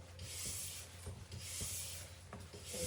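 A nylon brush swipes wax off a race ski in repeated strokes, each a soft, close scraping rub, roughly five rhythmic passes with brief pauses between.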